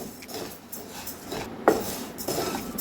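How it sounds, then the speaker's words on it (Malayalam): A spoon scrapes and clinks against a pan as rice is stirred and roasted over a medium flame, with soft irregular scraping and a couple of sharper knocks, fairly quiet and without talk. "ഒരു എട്ട് മിനിറ്റോളം ആയിട്ടുണ്ട് ഇളക്കാൻ തുടങ്ങിയിട്ട് മീഡിയം തീയിലാണ് വെച്ചിരിക്കണേ"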